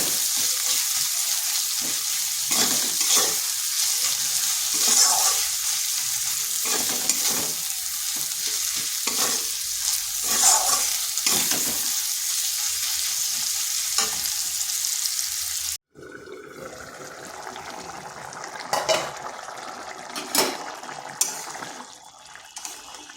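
Chopped medium-sized onion frying in a pan with a steady loud sizzle, repeatedly stirred with scraping strokes; partway through the sizzle drops to a quieter bubbling hiss with occasional stirring knocks.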